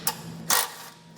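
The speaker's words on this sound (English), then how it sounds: "take a socket and wrench" A socket wrench loosens an 18 mm tow hook bolt on a 2015 GMC Canyon, giving two quick, close ratcheting bursts in a quiet space.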